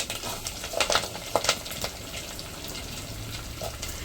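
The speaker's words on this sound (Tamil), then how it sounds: "கடுகு பொரிஞ்சு வந்துருச்சு. இப்போ கருவேப்பிலை போட்டுக்கலாம்." Mustard seeds spluttering in hot oil as curry leaves go in, with a dense crackling sizzle and a cluster of sharp pops in the first two seconds, then a steadier hiss; no voices.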